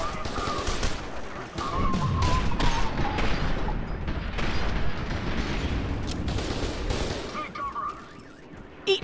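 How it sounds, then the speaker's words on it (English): A close, continuous barrage of gunfire and a grenade blast in the shooter F.E.A.R. 2: Project Origin, with dense rattling shots and booms that ease near the end. "Eat my grenade, mother trucker!"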